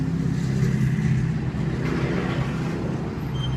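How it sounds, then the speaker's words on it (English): Continuous low engine rumble and road noise from passing cars, steady and fairly loud throughout with no voices. "I guarantee you all you're going to hear in that is car sound"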